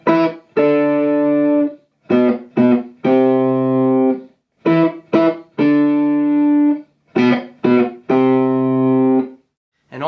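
Distorted electric guitar power chords built on an octave E and a B are struck in short, choppy rhythmic bursts with brief silent gaps, each chord ringing full and loud before it is cut off.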